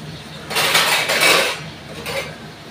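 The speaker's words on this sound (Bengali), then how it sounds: "আমি একটু চাপা দিয়ে দিচ্ছি।" A metal lid is set onto a cooking pot in a home kitchen after preparing a shrimp and ash gourd curry, a clattering metallic scrape and clink, followed by a second short clank.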